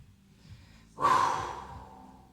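During an abdominal workout, a person lets out one forceful, breathy exhale that starts suddenly after a quiet moment and slowly fades, heard up close with no talking.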